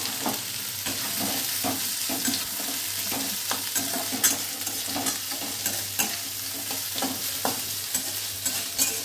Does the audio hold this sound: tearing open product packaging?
no